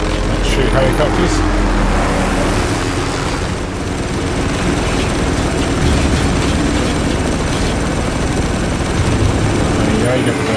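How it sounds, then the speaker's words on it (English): Helicopters in the video game Spec Ops: The Line give a loud, continuous rotor and engine roar that fills the whole stretch without a break, with a dense rumble throughout. "Helicopters."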